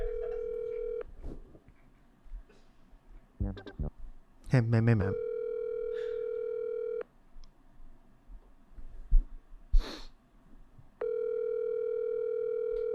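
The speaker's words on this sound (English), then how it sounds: "That's my ringtone. That's my callback tone." A phone ringback tone buzzes in three long steady pulses separated by pauses, with clicks, rustling and a short spoken greeting between them.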